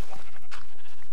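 A sheep in the video game Minecraft bleats once, loud and close, a short wavering digital cry with nothing else over it.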